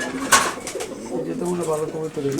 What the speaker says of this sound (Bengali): এটা একটা কবুতর এটা হলো মাক্সি মাক্সি কবুতর